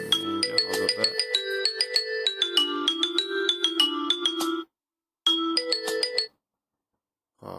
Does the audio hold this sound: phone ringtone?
yes